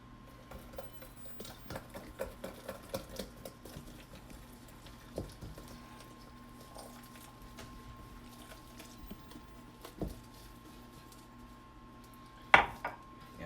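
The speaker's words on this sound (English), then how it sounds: "This whisk's going to get somewhat messy now that the dough's wet" A whisk working wet bun dough in a bowl, faint irregular taps and clinks against the bowl with soft squishy strokes, quiet overall, with a sharper clink near the end.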